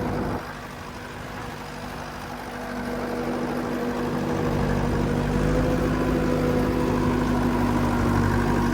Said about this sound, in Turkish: Ne yapsın yani bu eski model bir traktör bakın.